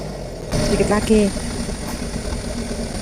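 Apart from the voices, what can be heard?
truck engine running while stuck in mud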